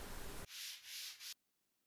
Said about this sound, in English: I wrapped some sandpaper around a block and gave them a quick touch-up to remove the rough spots.